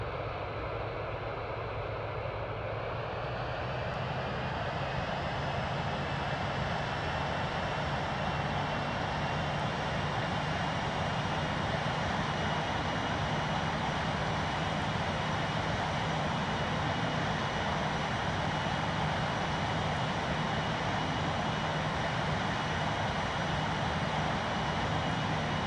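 A simulated airplane engine in Real Flight Simulator holds a steady, loud, broadband roar through takeoff, with a rising whine early on and no break or speech for the whole stretch.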